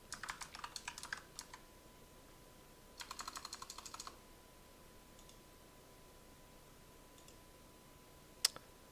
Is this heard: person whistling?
no